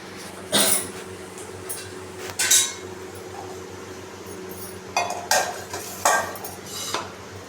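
A metal lid goes onto a cooking pot of ridge gourd for a yogurt chutney, giving several sharp, quiet clinks and knocks spaced out over a faint room hum, with no voices.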